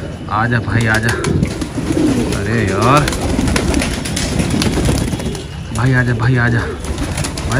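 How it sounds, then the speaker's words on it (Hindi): Kalduma pigeons coo in soft, low rolling phrases nearby, repeated throughout while a man keeps calling out over them in Hindi. "ये देखिए ये कबूतर गुटरा रहे हैं"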